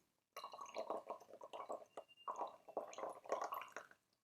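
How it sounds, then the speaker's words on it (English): Brewed white tea from Yunnan, pressed into a cake, pours from a teapot through a filter, giving a close, steady trickle and splash that runs for about four seconds after a sudden start. "So as I'm pouring, the leaves are still in contact with the water, so they're still brewing."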